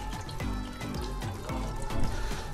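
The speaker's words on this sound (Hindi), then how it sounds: "हम इसका वाल्व खोल देते हैं अब ये देखें आपको नज़र आ रहा होगा कि पानी भर रहा है" Water fills a domestic five-stage RO filter housing at home with a soft, continuous gurgling trickle and small repeated bubbling surges, faint and close, no talk.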